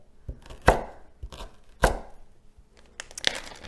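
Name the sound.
knife chopping vegetables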